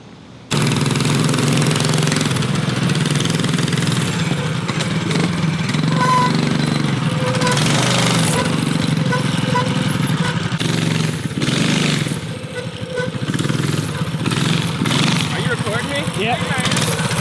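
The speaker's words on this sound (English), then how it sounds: "We're going to do a burnout real quick, or dual burnouts." A mini bike engine with its governor removed roars loudly and steadily as it revs hard through a burnout, a close, sustained, rough drone with slight surges that never lets up.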